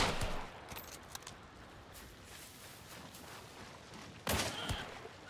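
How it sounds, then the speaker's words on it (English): Gunfire in Hunt: Showdown in a bayou setting, scattered sharp reports, mostly distant and faint, with a louder close burst near the end over a quiet background. "Oh, they're shooting me."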